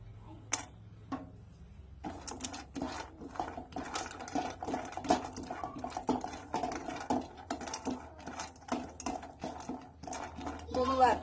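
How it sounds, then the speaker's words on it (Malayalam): Cashew nuts are stirred in a pan while roasting: a metal utensil scrapes and clinks against the pan in quick, irregular strokes at close range, with brief quiet moments before the stirring begins. "ആദ്യം നമുക്ക് ഈ കാഷ്യൂനട്ടൊന്ന് വറുത്തെടുക്കാം."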